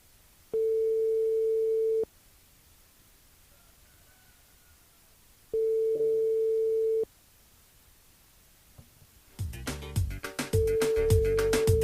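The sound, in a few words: telephone tone while redialing a number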